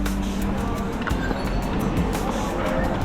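Horses move along a slippery, muddy mountain pilgrimage trail to Kedarnath amid a dense, continuous rumble of crowd and hoof noise, with a faint whinny-like tone briefly rising above the din.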